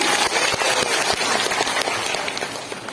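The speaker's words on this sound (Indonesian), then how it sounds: "Kurang meriah, tepuk tangan sekali lagi." An audience at a New Year's community gathering clapping on cue: a brief, full burst of many hands with scattered sharper individual claps, steady and fairly close for a few seconds.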